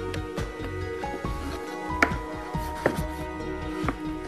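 A knife slices lemon, tomato and cucumber on a board, a series of soft irregular cuts and a few sharper taps against the board, close and fairly quiet with no talk.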